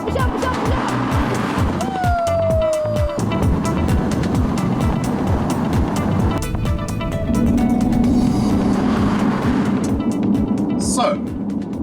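An Audi RS4 Avant station wagon drives along with a continuous engine rumble and road noise, revving and shifting at times, while someone talks over it.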